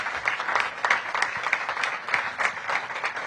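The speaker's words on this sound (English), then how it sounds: "Give them a big round of applause." An audience at a Washington, D.C. mayoral press event applauds a housing department team, moderate steady clapping from a modest crowd lasting a few seconds.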